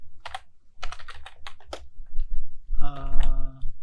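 Typing on a computer keyboard while entering a command: a quick run of key clicks, then a louder clack and a short whirring tone near the end, with a speaking voice in the background.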